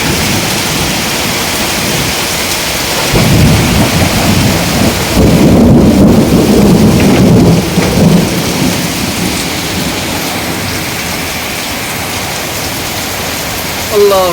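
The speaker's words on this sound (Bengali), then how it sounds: "আমাদের এখানে প্রচুর পরিমাণে ঝড় আর বৃষ্টি হতেছে" A Kalbaishakhi thunderstorm with heavy rain: a steady loud downpour roars throughout while a deep, rolling thunder rumble builds and fades in the middle.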